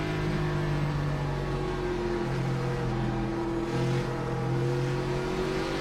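Steady, loud engine drone of a NASCAR stock car in iRacing, pitch holding and slowly climbing as the car runs at speed, with no talk.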